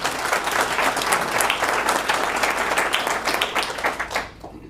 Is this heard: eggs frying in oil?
no